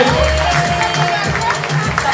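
An audience at an evening-wear and haute couture fashion show claps and cheers, a dense, lively crowd roar close by with steady applause and scattered shouts throughout.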